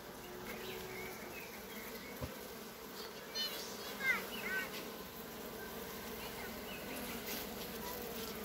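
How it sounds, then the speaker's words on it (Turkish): Anatolian honey bees buzzing at a beehive, a dense, steady hum of many insects close by with no voices. "Anadolu arısıydı. Geçen sene Mert arıcılıktan almıştım."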